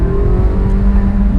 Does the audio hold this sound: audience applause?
no